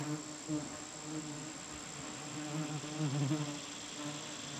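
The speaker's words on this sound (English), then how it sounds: "Look at that swarm." A dense swarm of bald-faced hornets buzzing around their nest, a continuous loud droning hum that wavers slightly in pitch, with no voices.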